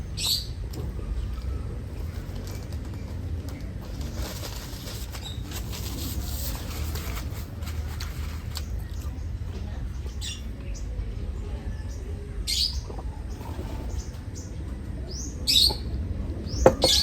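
Wild birds calling outdoors, scattered chirps and short tweets over a steady low background rumble, growing more frequent toward the end.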